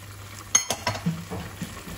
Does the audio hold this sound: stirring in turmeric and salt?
yes